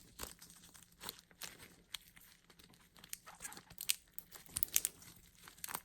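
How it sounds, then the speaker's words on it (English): Tape is pulled off and pressed down to hold a piece inside an epoxy resin mold for a G-Shock watch stand, giving faint, scattered crinkles and short tearing rasps up close, with no talking. "I just taped it there."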